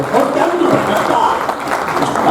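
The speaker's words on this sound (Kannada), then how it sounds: "ಸನ್ಮಾನ ದೊಡ್ಡ ಚಪ್ಪಾಳೆ ಬರಲಿ ನಮ್ಮ ಡಾಕ್ಟರ್ ರಾಜೀವ್ ತಾಳಿಕೋಟಿ ಸರ್ ಅವ್ರಿಗೆ" An audience at a photographers' day felicitation ceremony in Dharwad claps in steady, dense applause close by, while a voice speaks over it throughout.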